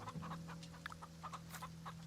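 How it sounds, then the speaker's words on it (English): A chicken in the Farm Together game clucks softly in short repeated bursts over a faint steady hum. "we do have a new chicken that I would love to plant"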